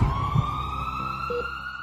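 An ambulance siren wails steadily as a rising, sustained electronic tone, loud and close, with faint background noise beneath it.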